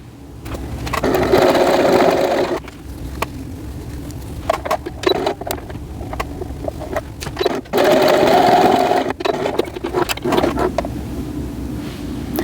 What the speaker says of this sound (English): I'm going to sew this seam at 1/4 of an inch